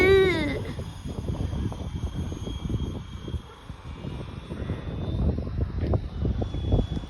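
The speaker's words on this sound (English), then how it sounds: "I've got the helicopter" A remote-controlled toy helicopter flies overhead outdoors, its rotors making a steady, fairly loud whirring drone that rises and falls slightly as it moves around, after a brief tone at the start.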